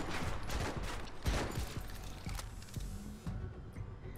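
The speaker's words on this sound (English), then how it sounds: "First exchange of gunfire between Take Motti and the Brazzers" Rapid bursts of gunfire rattle back and forth during a Modern Combat 5 competitive match on iOS, clustered cracks and thumps over low rumbling background, fairly faint and mixed with game noise.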